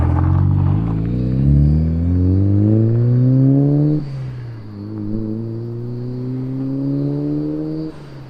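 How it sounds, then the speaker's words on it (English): Mitsubishi Evo exhaust as the car accelerates away, a loud rising engine note climbing through the gears with one shift before a second pull, fading slightly with distance, no talking. "that's just me accelerating away from the camera"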